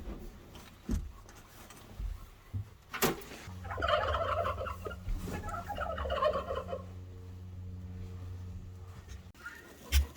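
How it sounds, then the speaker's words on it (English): Hens clucking inside a chicken coop in sub-freezing winter weather, with a run of close, fairly loud calls in the middle and quieter scattered noises before and after. "Tiny Beastin thinks she wants to lay an egg while we are in here"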